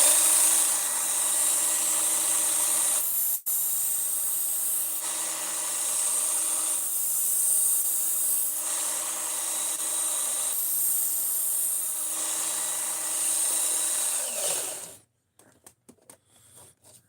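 An Ozark Trail D2 steel knife being sharpened on a belt grinder gives a steady, bright, loud abrasive whine with a brief dip partway through. It stops abruptly near the end, leaving a few faint clicks and knocks.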